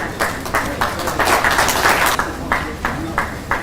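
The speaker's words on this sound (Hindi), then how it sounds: "तालियां बजती रहनी चाहिए।" Audience clapping at a ceremony launching the mascot Juhi for the Jharkhand Women's Asian Champions Trophy hockey event, a steady, dense wash of applause with pulsing bursts throughout, fairly loud and close.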